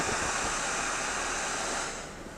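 Heavy pouring rain, a dense steady hiss of falling water close by, easing slightly at the end.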